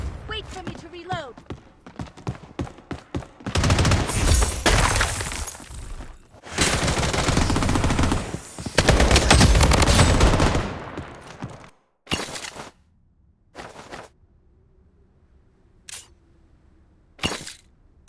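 Gunfire rattles through a 4v4 ranked squad match in the mobile shooter Blood Strike, with dense loud bursts of automatic fire followed by sparse isolated shots and quiet gaps.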